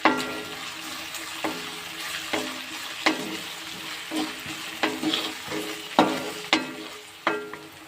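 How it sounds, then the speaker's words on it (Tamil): Tomato with ginger and garlic sautés in oil for bitter gourd thokku, a close continuous sizzle broken by regular spatula scrapes and knocks against the pan roughly every second. "நல்லா வதங்கட்டும் எண்ணெயில்."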